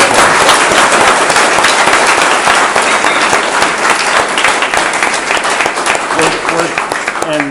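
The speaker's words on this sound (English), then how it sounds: "You can hear the folks give you a round of applause." An audience at a presentation on net zero communities gives a loud, dense round of applause, a continuous wash of many hands clapping that stays strong throughout and only slightly loosens near the end.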